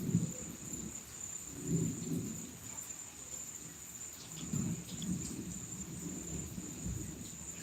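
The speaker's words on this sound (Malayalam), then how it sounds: "മഴ" Low rumbles of thunder roll in twice over a steady patter of rain, with crickets chirping faintly throughout; no one speaks.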